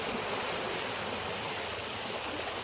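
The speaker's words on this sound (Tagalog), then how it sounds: "Kusog kaayo ang current sa tubig." A strong floodwater current rushes past during heavy rain, making a steady broadband roar like a fast stream. The sound is constant and close, with no voices.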